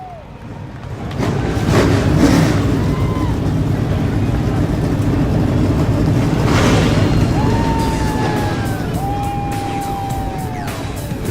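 Race car engines fire up together on the Road America grid in iRacing, a dense, loud roar that builds within the first second and stays sustained, with rising pitch sweeps from individual engines.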